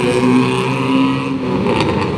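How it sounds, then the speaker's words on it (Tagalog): Motorcycle engines with loud aftermarket exhausts on a road, a steady close drone with a slight rise in revs, no talking. "Nagsalikid agkog tambutso ang ilang motor"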